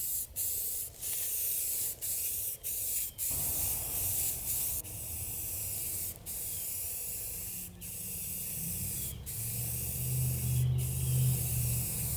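Aerosol cans of satin black and semi-gloss paint spray in a continuous close hiss, broken by brief pauses and can handling, with a rattling shake near the end.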